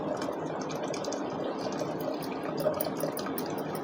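Steady watery rush of water being poured into a pot while making puran poli, continuous and close, with no talking.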